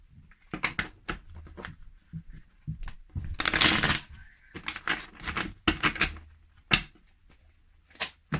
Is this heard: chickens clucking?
no